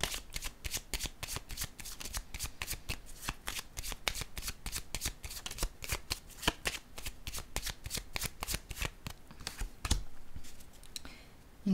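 Tarot-style cards handled and set down during a card reading, a long run of quick, crisp snaps and riffles close by, with no talk and a softer pause near the end.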